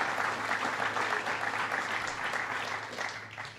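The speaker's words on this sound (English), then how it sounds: "Could you give him another round of applause?" Applause from an audience at a political healthcare event, steady and moderately distant, gradually tapering off.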